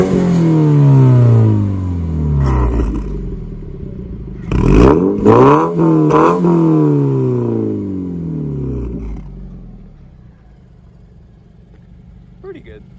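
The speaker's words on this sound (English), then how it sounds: "this car has an Akrapovic exhaust, and it has a open and a close function" A Subaru BRZ or Toyota GT86 fitted with an Akrapovic valved exhaust revs loudly and close by in several rising and falling sweeps, with a sharp cluster of blips midway, then drops back to a low idle.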